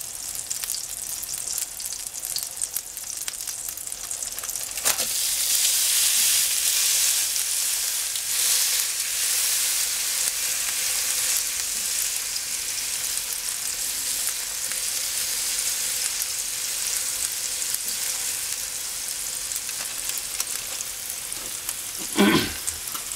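Impossible Burger plant-based patties frying in a pan, a steady broadband sizzle that swells after a few seconds and holds at an even level, with a sharp clatter at the start and a burst of utensil noise near the end.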